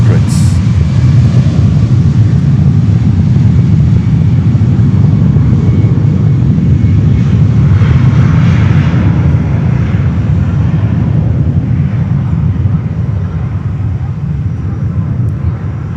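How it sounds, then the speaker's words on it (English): A Southwest Airlines Boeing 737-800 takes off at Fort Lauderdale Hollywood International Airport, its loud, steady jet engine roar dominating throughout and easing slightly near the end. "Take off, Southwest Airlines 737-800s."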